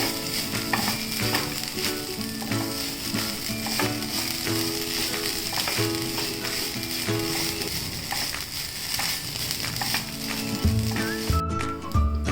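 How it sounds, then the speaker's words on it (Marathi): Freshly grated coconut, a whole coconut's worth, sautéing in a pan for a sweet modak filling: a steady, dense sizzle and frying crackle that runs throughout, with sustained tonal background music underneath. "पूर्ण एक अख्खा नारळ घेतलाय परतून घेते थोडं"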